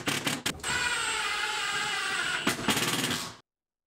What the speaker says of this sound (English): I found using the track saw to cut it works really well